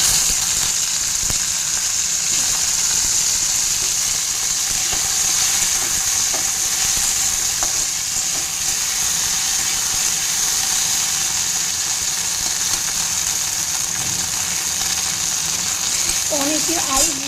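Pieces of taro sizzle in hot oil with a dried red chilli, a steady, close frying hiss that runs through the whole stretch, with faint kitchen clinks.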